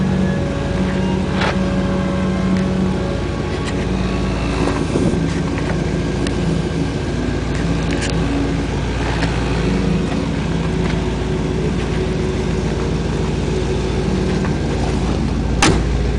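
A 1962 Chevrolet two-door post car engine idling nearby, a steady rumbling, constant low throb with wind buffeting the microphone throughout.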